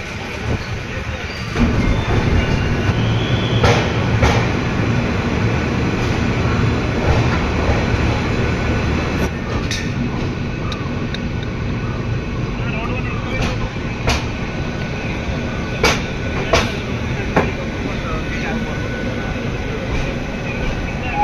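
A train pulls away from a station and runs on, its steady rumbling roll carrying throughout with intermittent wheel clicks and sharp rail noises, while a voice talks over it at times.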